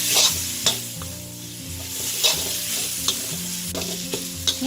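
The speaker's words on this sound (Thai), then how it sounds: "ให้เราผัดจนกว่าด้าผักชีของเราจะหอมนะ" Coriander root stir-fried in hot oil as a filling for Chinese New Year savory-filled steamed pastries, with a steady close sizzle broken by repeated spatula scrapes and clinks against the pan; no talking.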